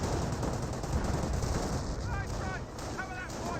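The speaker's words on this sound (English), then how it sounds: "Rifle grenades are firing away, getting some damage there onto these Grenadiers." Rifle grenades launched by British infantry against German Grenadiers in Company of Heroes: dense, continuous thumping and crackling battle fire with overlapping bursts, loud and steady throughout, with a voice faintly underneath.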